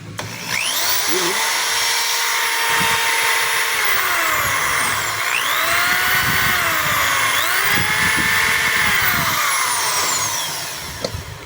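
A DeWalt D21710 hammer drill with a damaged cord runs steadily at close range, its motor whining loudly and shifting in pitch as it speeds up and slows down, with a few faint knocks underneath.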